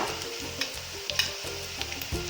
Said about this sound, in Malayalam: സവോള നന്നായി വഴറ്റിയെടുക്കണം.